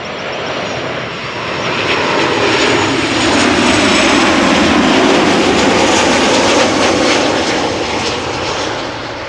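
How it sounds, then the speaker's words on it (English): A 10-year-old KLM Boeing 737-800 jet arriving from Copenhagen at Schiphol Airport, its engine roar loud and steady, swelling slightly mid-pass then easing, with no voices. "KLM Flight 1268 arriving from Copenhagen. 1 hour and 2 minutes it has taken it to get here. 737-800, 10 years old"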